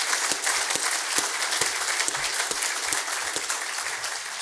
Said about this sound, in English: how about one more round of applause for 3 terrific speakers?